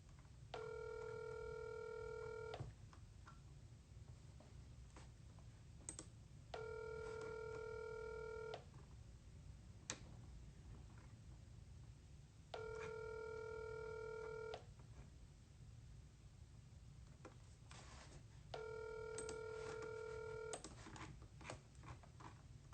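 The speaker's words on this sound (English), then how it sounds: "Why does phone take so long to start ringing?" A telephone ringback tone sounds on an outgoing call, four evenly spaced two-second rings with long gaps between them, steady and clear over a low background hum.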